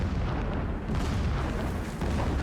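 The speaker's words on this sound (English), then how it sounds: "Explosions in the distance." Distant explosions in the video game Horizon Zero Dawn roll as deep, rumbling booms that swell and fade over a steady low-end roar, with no voices.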